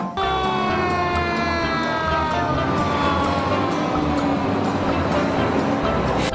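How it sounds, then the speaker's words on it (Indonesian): A toy fire truck's continuous electronic siren wail with slowly falling tones, loud and steady, over a constant background hum. "Wow, yang ini mobil pemadam kebakaran."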